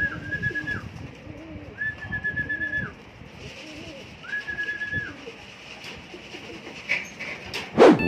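Racing pigeons coo softly nearby, a Koopman cock among them, with three long rolling coos spaced a few seconds apart over low throaty murmurs, ending in a sharp flutter.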